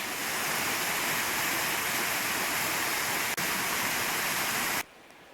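North Harper Creek in Pisgah National Forest, North Carolina, rushes with a steady, loud, broadband roar of flowing water and falls, continuous and close, then cuts off abruptly near the end.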